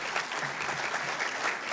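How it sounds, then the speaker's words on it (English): An audience at a city State of the City speech claps together in a steady, fairly distant round of applause that carries on without a break, with no talk over it. "Let's give them a round of applause, please."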